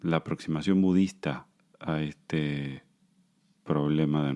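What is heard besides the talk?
None of the usual background noises is heard.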